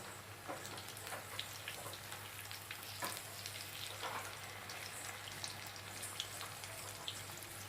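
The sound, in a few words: chillies coated in gram flour frying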